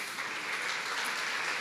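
A church congregation claps loudly in praise during a sermon, a dense, steady wash of applause that fills the short stretch with no voices over it.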